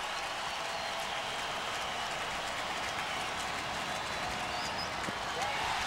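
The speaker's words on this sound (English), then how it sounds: "Finally some reaction from the crowd here at Minute Maid Park. This is the most noise we've heard in three games." A baseball crowd at Minute Maid Park during a Cubs at Astros game gives a steady, dense roar of cheering and noise that holds evenly throughout, broad and distant-sounding.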